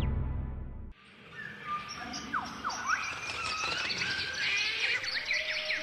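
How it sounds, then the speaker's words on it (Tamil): Several birds chirp and tweet in quick, overlapping calls, bright and fairly close, running steadily over a soft background hiss after a brief low rumble at the start, with no voices. "நாரைகள் போன்ற பல வகையான பறவைகளையும் படைச்சாரு"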